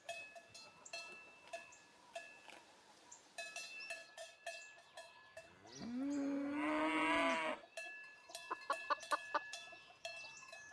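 A cow moos in the farm-management video game Border Office: one long, loud, drawn-out bellow that rises and falls in pitch, set against clinking cowbell-like ticks and other farmyard game sounds, with no talking.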